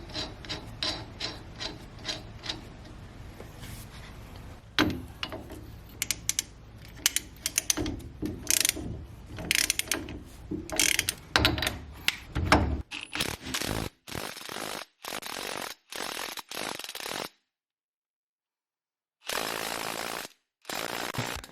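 An impact wrench drives a new wheel stud and nut into place on a car hub, a series of loud, close rattling bursts of hammering, some long and some short, with brief pauses and one silent gap between them.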